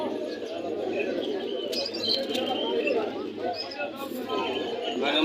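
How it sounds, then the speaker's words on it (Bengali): Pigeons coo in low, repeated murmurs at a busy pigeon market, under a constant crowd babble with traders talking, and a few sharp higher chirps and clatters rise now and then. "পুরোনো জাতের কবুতর"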